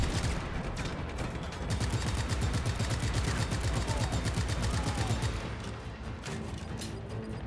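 Dense gunfire in Just Cause 3: sustained rapid bursts of automatic weapon shots, loud and continuous, with crashes mixed into the steady barrage.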